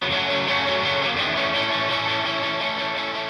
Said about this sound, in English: The guitar tone we got sounds like this.